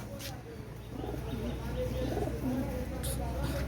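Red-necked Pakistani teddy pigeons cooing softly in the background, low throaty calls under someone talking nearby.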